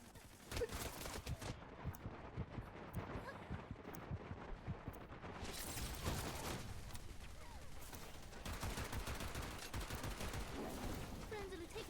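Rapid bursts of gunfire from the Wild Assault video game, dense overlapping shots and automatic fire running continuously and loudly throughout, with voices calling out beneath the shooting.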